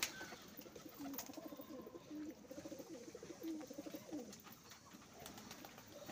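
Kotashi crossbred pigeons kept in a loft, cooing softly. Low, repeated throaty coos carry on one after another over a steady outdoor background hum, quiet and close by.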